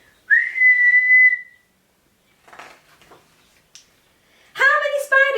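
A single steady whistled note, voiced by a person imitating a referee's whistle, lasts about a second and is followed by soft rustling and then a speaking voice.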